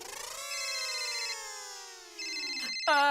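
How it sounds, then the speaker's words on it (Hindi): An electronic ringtone plays continuously, a bright tonal melody with steady harmonics, shifting pitch midway, fairly loud and close with no talking. "मेरा फोन बज रहा है"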